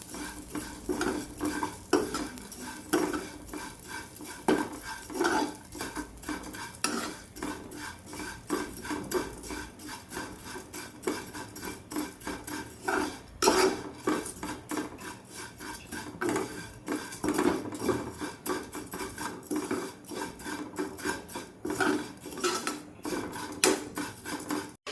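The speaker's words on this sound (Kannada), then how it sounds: "ಇದೇ ತುಪ್ಪದಲ್ಲಿ ಈ ಶಾವಿಗೆಯನ್ನು ಚೆನ್ನಾಗಿ ಫ್ರೈ ಮಾಡ್ತೇನೆ" Vermicelli fried in ghee is stirred briskly in a pan, a dense run of scraping and rubbing strokes with frequent light clinks of the spoon against metal, close and continuous for the whole stretch with no voices.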